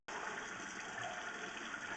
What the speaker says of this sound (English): so you see the water came back.